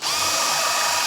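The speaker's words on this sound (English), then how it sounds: "Now I have drilled the 2 holes on the sides, you know, with a 1/4 inch" A power drill bores 1/4 inch holes, a loud, close, steady high-pitched whine with grinding bite running throughout without pause.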